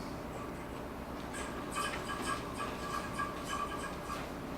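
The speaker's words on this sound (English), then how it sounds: "And the long spring sounds like this." A faint metallic spring twangs and rattles in quick repeated taps over a low steady hiss, with no speech.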